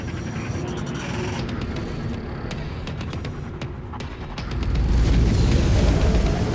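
A missile explosion in the space combat game Star Citizen, fired at a Mustang ship: a steady engine-like drone gives way midway to a loud, broad, low boom that swells and rumbles on to the end.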